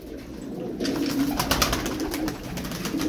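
Tumbler pigeons cooing in a loft, a soft low continuous burbling coo with faint rustling and a few higher chirps, fairly close and steady throughout.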